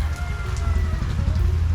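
Steady rain falling in bad weather, a dense, continuous patter drumming on surfaces close by, loud and unbroken with no voices over it.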